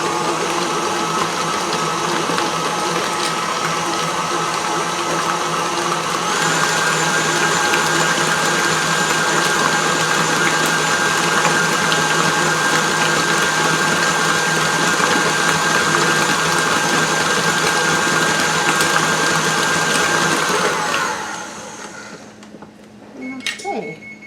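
Electric stand mixer whirring steadily through chocolate chip cheesecake batter, a loud continuous motor hum that shifts pitch once and then winds down near the end.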